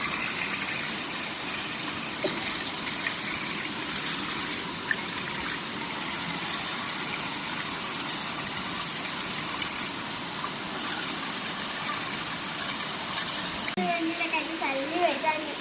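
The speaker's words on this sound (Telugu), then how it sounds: "బిల్డింగ్ పై నుంచి వరద ఎట్లా వస్తుంది." A continuous rushing gush of floodwater pouring off a building roof in heavy rain in Karimnagar, Telangana, with rain hiss around it and brief voices near the end.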